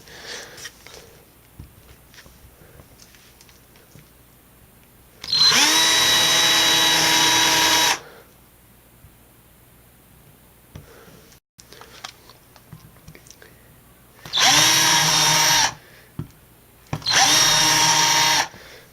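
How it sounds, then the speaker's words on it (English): A power drill whines loudly in three bursts, one long and two shorter, separated by quiet pauses with faint handling noises. "Like I said, you just keep drilling."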